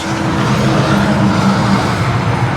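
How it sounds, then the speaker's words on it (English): Steady, loud roar of tires and engine on a road, a constant low rumbling drone with no breaks. "Sorry for the road noise, by the way."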